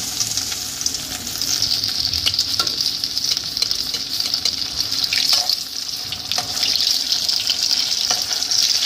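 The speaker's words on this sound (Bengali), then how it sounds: "একটু ফ্লেমকে জোরে রেখে আমি এইভাবে প্রত্যেকটা পনিরকে ভেজে নেব।" Battered paneer pieces fry in hot oil over a high flame, a continuous bright sizzle and crackle with occasional soft clicks and pops.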